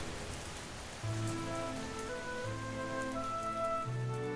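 A steady rain downpour hisses as a background effect in a narrated fairy tale about a princess, with soft music notes drifting over it and no talk.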